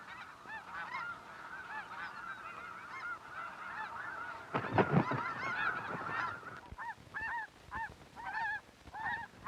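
Arctic geese honk repeatedly in a chorus of nasal calls, some near and some farther off, with a louder flurry of activity midway through.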